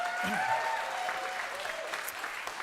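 Applause after a song in a lockdown music session, a steady wash of clapping from a small group lasting throughout, moderately loud with a faint tonal ringing underneath.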